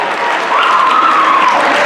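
A high school student recognition assembly crowd cheers and claps through a Winter Carnival week announcement, a dense, loud burst of applause with a rising whoop riding on top.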